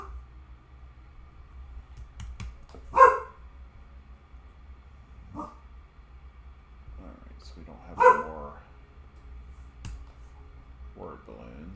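Daisy the dog barks twice at a mail delivery, each a short, sharp, moderately loud bark spaced several seconds apart, with quiet talk in between.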